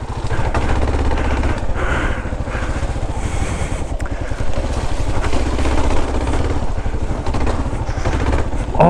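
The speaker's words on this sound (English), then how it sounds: "making the engine work" A Kawasaki KLR 650 dual-sport motorcycle engine revs hard and steadily for several seconds on an off-road trail, a loud, rough, throbbing drone up close.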